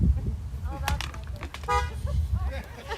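Car horns honking at an outdoor drive-in school graduation ceremony, several short toots scattered across the moment with one longer blast, heard over a low engine and background rumble.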